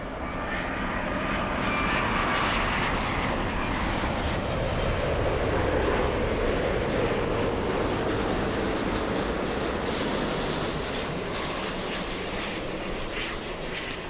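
An SAS airliner roars steadily at Los Angeles International Airport, a loud, broad jet engine rumble that holds throughout without a break.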